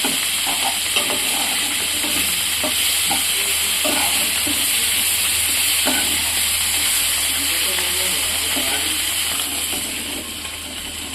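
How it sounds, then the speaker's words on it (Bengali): Dried chandana fish frying in oil in a kadai with turmeric and salt, giving a loud, steady sizzle for the whole stretch with scattered stirring scrapes, then easing slightly at the end. "শুটকিগুলো ভাজা হয়ে গেছে"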